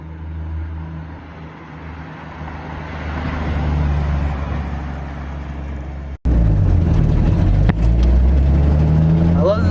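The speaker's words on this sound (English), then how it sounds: "I love that this thing sounds like a tractor." A 1960 Ford F100 pickup's engine while driving, a low, rough, tractor-like drone that rises, cuts out briefly, then returns louder and close.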